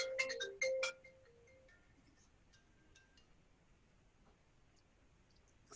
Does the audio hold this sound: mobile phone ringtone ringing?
yes